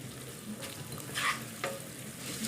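Rice frying and being stirred in the onion-frying oil for koshari, a steady close sizzle with soft scraping stirs that swell briefly twice.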